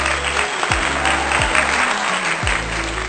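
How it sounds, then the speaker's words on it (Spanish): Applause for guest Felipe Álvarez on a Medellín performing-arts podcast, a dense wash of clapping over a steady background with low swooping tones, continuous and fairly loud. "Un aplauso, por favor."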